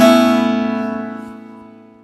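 A single guitar chord strummed once and left ringing, decaying gradually over about two seconds, close and clear.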